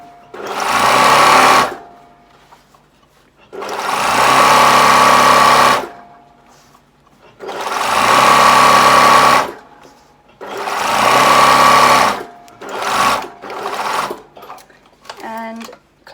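A sewing machine stitches elastic onto a fabric slip in four loud, close runs of rapid whirring, each about two seconds long and separated by pauses. Shorter stop-start bursts follow at the end.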